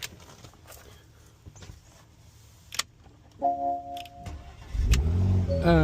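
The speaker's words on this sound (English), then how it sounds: "Engine start." A 2016 Porsche Macan starts with a newly programmed key: light clicks and a short chime come first, then the engine cranks and catches into a loud, close idle rumble.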